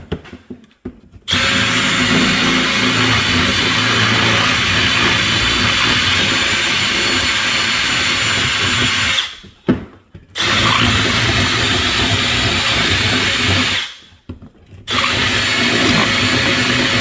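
A power drill runs in long, loud, steady whirring stretches, broken by two brief pauses, with no talk over it.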